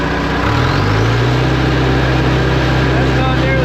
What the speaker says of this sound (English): You go wide open.